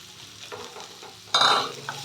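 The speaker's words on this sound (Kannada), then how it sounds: "ಇನ್ನು ಎಣ್ಣೆ ಚೆನ್ನಾಗಿ ಫ್ರೈ ಮಾಡಬೇಕು" Chopped capsicum fries in hot oil. A soft background hiss swells into a loud, bright sizzle as the pieces hit the pan, with stirring noise over it and nobody talking.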